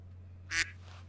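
A single short, loud duck quack bursts out once in the middle against a steady low hum, with nothing else around it.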